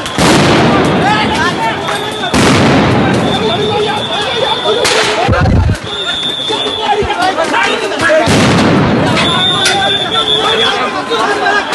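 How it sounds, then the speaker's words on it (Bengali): Sound grenades burst as police chase protesters at an Inqilab Mancha rally, with several loud, sharp blasts spaced seconds apart over constant crowd noise and shouting. "দর্শক আবারও সাউন্ড গ্রেনেড দিয়ে কিন্তু ধাওয়া দিচ্ছে আন্দোলনকারীদের।"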